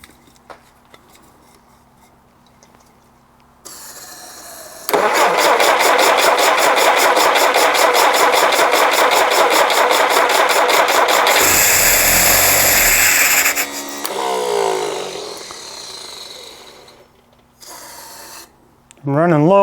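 A rebuilt Jeep CJ5 engine cranks on starter fluid: a short burst of cranking, then a loud, steady mechanical roar lasting several seconds before it cuts out, followed by a brief rougher stretch and a final crank.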